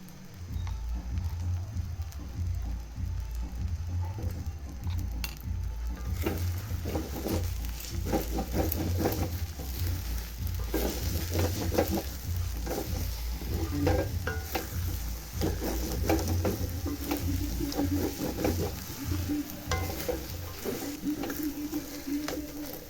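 Semolina cooking with ghee in a pan, a sustained sizzle with constant stirring scrapes and patter, close and steady throughout with no talk, for a soft rice-free pitha sweet.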